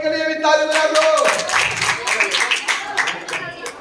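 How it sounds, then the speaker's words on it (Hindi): Classroom children clap together during a lesson, a burst of many quick overlapping hand claps that starts partway through and runs to the end, mixed with voices and a teacher speaking. "चलो इनके लिए भी ताली बजा दो."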